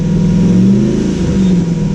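A powerful motorcycle engine revving nearby, loud and steady with rising and falling pitch sweeps as the throttle is blipped, no talking over it.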